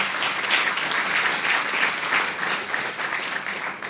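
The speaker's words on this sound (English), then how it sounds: "Please give our congressman another round of applause" Steady, full applause from an audience for Congressman Vern Buchanan at a Tiger Bay legislative update, sustained dense clapping throughout with little talk.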